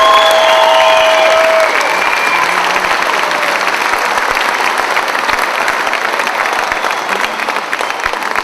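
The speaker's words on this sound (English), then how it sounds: "Let's give them one more round of applause." A school spring concert audience claps loudly and continuously in a large room, sustained applause with a few whistles or cheers near the start, gradually settling but still strong to the end.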